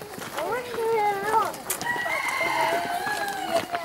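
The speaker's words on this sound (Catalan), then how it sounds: "Sí, és el gall. Un gall, eh?" A rooster crows outdoors in several rising and falling calls, with children's voices talking and calling around it in the background.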